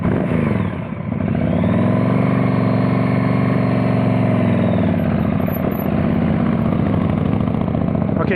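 Motorcycle engine running steadily during slow-speed practice riding, a loud continuous close idle-like drone with slight pitch shifts, no talk heard over it.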